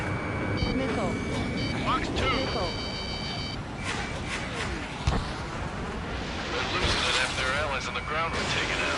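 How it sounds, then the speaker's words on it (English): Repeated stall warning beeps in the Ace Combat 7 flight game, steady tones sounding over busy jet engine roar and combat noise, with voices talking alongside. "Stall warning."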